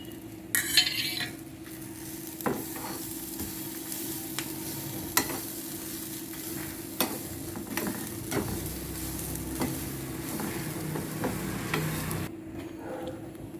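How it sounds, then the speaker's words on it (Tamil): Chillies, curry leaves and coconut roasting in a pan for sambar, with soft sizzling and repeated scraping and tapping of a spoon stirring against the pan, no talk. "மிளகாவும் போட்டு வறுத்துக்கணும்."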